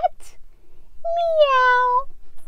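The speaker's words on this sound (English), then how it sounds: "meow, meow, cat, cat" A cat meows twice, close and alone: first a brief chirp, then after a short pause a longer, drawn-out, rising meow.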